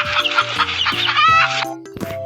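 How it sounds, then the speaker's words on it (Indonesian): A hen clucks repeatedly in quick, close, fairly loud bursts while out with her chicks, with no talking over the sound. "itu benar ternyata ayam betina sedang membawa anaknya."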